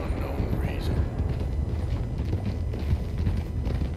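A horse gallops in Red Dead Redemption 2, its hoofbeats a rapid, steady clip-clop rhythm under the game's ambient rumble, with voices talking over it.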